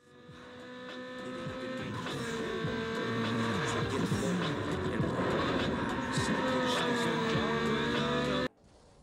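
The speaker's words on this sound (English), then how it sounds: "Every car has its special engine sound" Racing car engines in the video game Need for Speed Underground 2 drone and whine steadily, revving up and shifting pitch with faint tire squeals, building in loudness before cutting off abruptly near the end.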